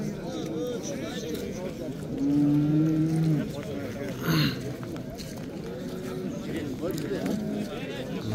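A cow lets out a long, low moo, followed by a shorter one, amid a noisy livestock market with people talking nearby.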